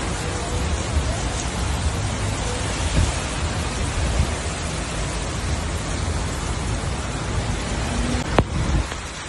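Heavy rain pours steadily during a storm in Saudi Arabia, a dense, loud, unbroken hiss with a brief sharp crack near the end.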